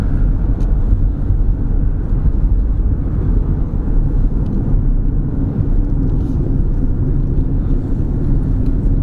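A car drives past a building on a street in Scott, Louisiana, its steady, loud engine and road rumble filling the recording from start to finish.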